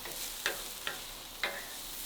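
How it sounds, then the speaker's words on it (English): Green onions being stirred into salmon fried rice in a pan: three quick spatula scrapes and clicks over a soft, continuous sizzle, fairly quiet and close. "Mix those around a little bit."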